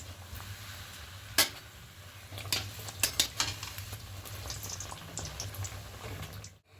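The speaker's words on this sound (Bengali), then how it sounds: "এটা হয়ে গেছে উল্টে পাল্টে দেখুন এরকম করে ভেজে নিয়েছি" Egg patties frying in a little oil in a wok give a steady, soft sizzle, with a few sharp clinks and scrapes of a utensil against the pan as they are turned. No one speaks.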